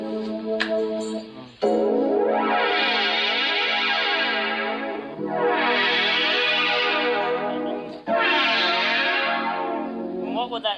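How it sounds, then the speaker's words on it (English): Guitar synthesizer tuned in fifths plays three long, swelling strange chords, each sustained with heavy chorus and effects shimmer, loud and alone with a brief note before the first. "I like to tune the synthesizer, the guitar synthesizer, in fifths, and then play strange chords as well"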